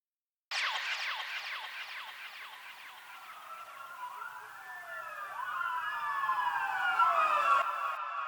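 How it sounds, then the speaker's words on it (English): A police siren sound effect in a UK garage music production wails in rising and falling sweeps, loud and close, with several overlapping tones swelling toward the end. "We have a police siren"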